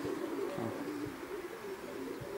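Soft, repeated coos of racing pigeons back from a 150 km competition flight, murmuring close by over a steady background hum, no voices.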